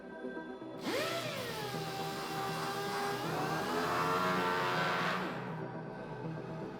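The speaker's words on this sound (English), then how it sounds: "Here I'm deburring the outer edges for a cleaner finish and adding a chamfer to the hole for the M4 thread." A power tool deburring the outer edges of a CNC-machined wall clock part and chamfering a hole for an M4 thread: a steady, close whirring grind that spins up, holds for about four seconds, then winds down, alone without talk.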